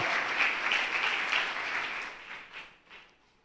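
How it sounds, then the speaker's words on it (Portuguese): Applause from a church congregation fills the space, a steady dense clatter of many hands that holds strong and then tapers off toward the end, with no voices over it. "Só você que recebe, dá um aplauso bem forte a Ele."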